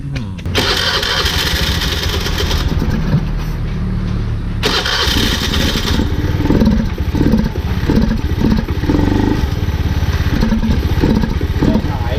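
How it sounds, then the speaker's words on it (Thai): A Honda Zoomer-X scooter with water in its fuel-injection tank is cranked close by, then the engine catches and settles into a loud, uneven idle with a rhythmic chugging pulse. "เดี๋ยวลองสตาร์ทดูอีกทีนะครับ"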